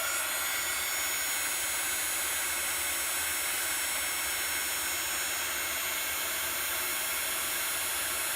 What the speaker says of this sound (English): I'm just going to heat dry this.